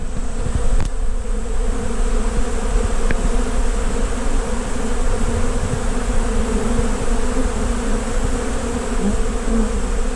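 Honey bees swarm an open feeder tote in South Carolina, a dense, continuous buzzing hum from many insects close by, steady and loud throughout with no voices.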